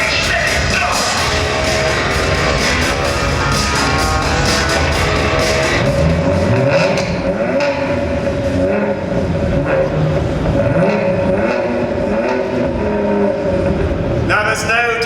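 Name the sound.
BMW 1 Series M Coupe twin-turbo inline-6 engine revving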